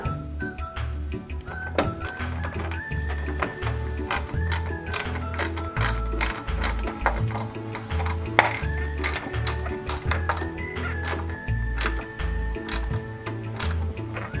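A screwdriver drives small screws into the front bumper of a 1:8-scale KITT Pontiac Firebird model, giving close ratcheting clicks and repeated sharp ticks at an uneven working rhythm, with no talk.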